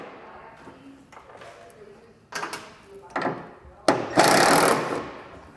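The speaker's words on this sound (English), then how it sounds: "Use an 8mm socket to remove those." Ratcheting and clicking of an 8mm socket backing out tailgate screws on a 2022 Ford Maverick, a few short bursts of rattle that grow louder toward the end, with faint handling noise between them.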